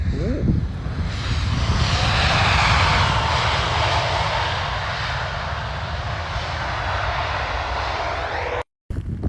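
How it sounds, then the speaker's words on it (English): Loud, sustained roar of a US Coast Guard Hercules's propeller engines passing close by at Aberdeen, steady and powerful throughout with a brief cut near the end. "Managed to get the US Coast Guard Hercules"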